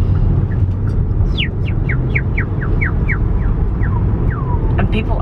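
A person whistles a quick series of about a dozen sliding, bird-like chirps in imitation of a bird call, heard close and clear over a rumble of background traffic.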